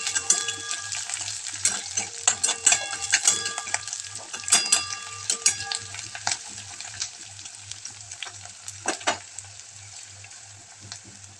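Onion and green chillies fry in a pan, a steady bright sizzle broken by frequent clinks and scrapes of a stirring utensil against the metal, close and fairly loud with no talk.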